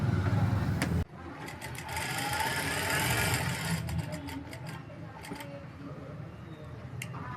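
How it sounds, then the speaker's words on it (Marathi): A sewing machine stitches along the back neck of a beaded blouse, a faint rapid whirring run under a woman's speech, with a few sharp clicks along the way. "पूर्ण ह्या लाईनवर स्टिच करून इकडे एंड करणार आहे"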